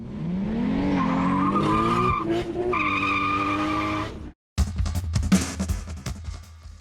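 Tires squeal and skid as a car spins its wheels on an autotest track, a loud sustained rising screech with engine revving, cut by a brief silence and followed by rougher, noisier tire and engine sound.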